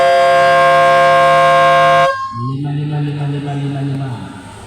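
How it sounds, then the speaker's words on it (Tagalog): A loud, sustained horn blares for about two seconds at a basketball game, then cuts off, followed by a lower, shorter horn-like tone fading away. "Busina."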